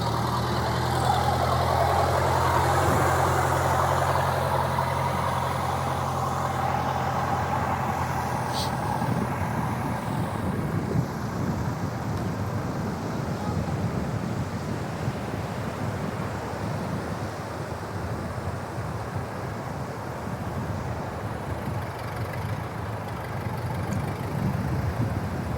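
A truck engine idles and works steadily on Teknaf sea beach, hauling a wheeled wooden fishing trawler up from the sea, its low rumble continuous and fairly loud against constant surf and wind.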